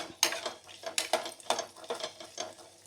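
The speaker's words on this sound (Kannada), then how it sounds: "ಅದನ್ನು ಕೂಡ ಫ್ರೈ ಮಾಡ್ತೇನೆ." Garlic, ginger and onion frying in a pan while being stirred, with repeated scraping and clinking strokes of a utensil over a soft sizzle, close and moderately quiet.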